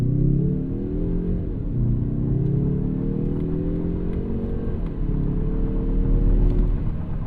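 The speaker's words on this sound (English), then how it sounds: "Y'all hear how that engine noise roar?" Engine noise heard from inside a 2024 Mazda 3 Turbo AWD in sport mode as it accelerates through the gears, pitch climbing then dropping at each shift, a steady low roar throughout.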